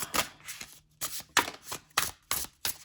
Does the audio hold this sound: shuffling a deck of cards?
yes